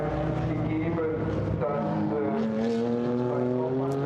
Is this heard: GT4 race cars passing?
yes